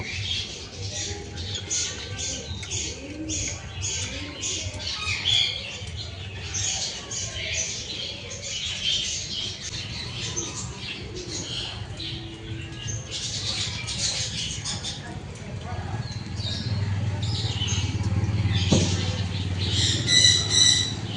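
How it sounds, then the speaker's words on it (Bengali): Colourful caged birds at Baruipur mini zoo chirp and squawk in scattered, overlapping bursts while feeding, nearby and fairly lively, with a low background hum growing toward the end. "এই পাখির আওয়াজ আর এই বিভিন্ন রকমের পাখি দারুণ লাগছে"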